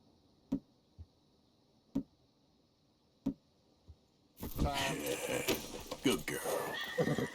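A horse in Red Dead Redemption 2 gives a loud neigh and snort after a run of spaced hoof clops, with game ambience around it.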